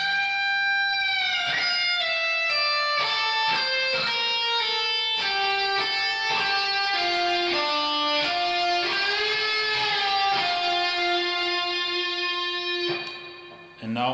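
Slow electric guitar playing of a solo, sustained bent and held single notes stepping through a melodic line, loud and continuous for about fourteen seconds with a sudden cut near the end.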